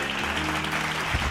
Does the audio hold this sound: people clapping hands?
yes